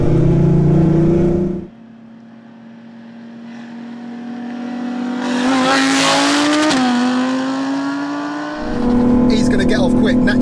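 Audi R8 and Audi A3 drag race: a loud engine drone dips as the cars pull away, then rises again with a climbing rev and screeching tire noise before a final surge of sound; people talk over it.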